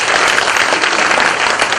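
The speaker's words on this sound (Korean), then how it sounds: "박수를 좀 부탁드리겠습니다." A crowd claps steadily and densely at the opening of a 2014 Busan education superintendent candidates' policy debate, the dense applause filling the hall loudly and evenly for a short burst.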